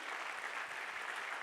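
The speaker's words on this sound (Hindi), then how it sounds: "ताली बजाएं अपने लिए प्लीज" A lecture audience in a hall applauds themselves, steady dense clapping throughout, moderately loud and unbroken, with no speech over it.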